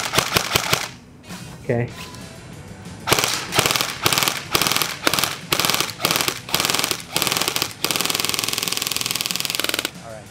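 An airsoft gun fires at a melon from 25 feet, with rapid bursts of sharp, snappy shots in quick succession, loud and close, while a person speaks briefly in between.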